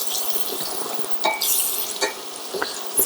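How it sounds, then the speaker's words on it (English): A cumin and coriander spice mixture with turmeric stirred in a sizzling pan, steady frying hiss broken by several scraping clinks of a utensil against the pan. "Let's just give that a bit of a stir."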